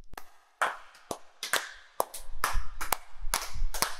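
Scattered sharp handclaps, a handful of people applauding, each snap crisp and separate with irregular gaps, starting sparse and then tightening into quicker bursts.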